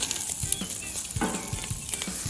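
Bacon sizzles on a Camp Chef griddle while a smash patty is pressed down: a constant close frying hiss broken by repeated soft scraping and pressing thumps.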